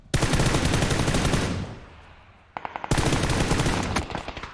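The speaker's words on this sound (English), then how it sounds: "Tundo, resident flanker, still firing shots pretty much next to Zacho." Rapid automatic gunfire in a competitive shooter match, loud and continuous bursts, a brief lull that fades, then another sustained burst of fast shots.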